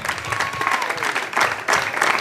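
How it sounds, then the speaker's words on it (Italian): A crowd at a hill slalom car race in Calabria applauds, a steady dense clapping wash with a louder swell toward the end, while a voice talks faintly underneath. "Un applauso a tutti voi"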